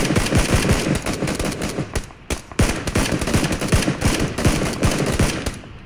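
Loud, sustained automatic gunfire from the battle royale shooter PUBG (Battlegrounds), with rapid bursts of shots firing almost continuously and a brief lull near the middle.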